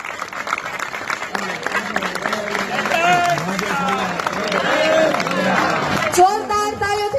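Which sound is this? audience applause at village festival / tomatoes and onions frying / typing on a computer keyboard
audience applause at village festival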